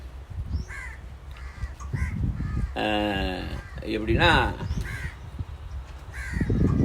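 Crow cawing with harsh, repeated calls at middle distance, heard in bursts while someone narrates a story over them.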